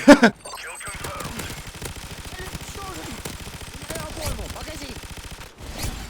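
Light machine gun fire in Call of Duty, a long rapid burst of close, loud shots after two sharp opening bangs, with a short pause before firing resumes.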